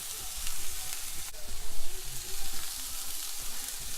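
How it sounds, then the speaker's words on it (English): Garlic dropped into a hot pan gives a steady, moderate sizzle with light stirring, close by and without talk. "I'm gonna start putting in my garlic."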